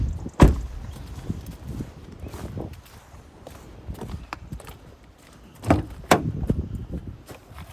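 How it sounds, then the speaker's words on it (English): Bonnet of a 2014 Nissan Navara 3.0 dCi V6 Outlaw pickup popped open from inside the cab, with a sharp thunk and clunks near the start and again later, under low background rustle. "let me just pop the bonnet,"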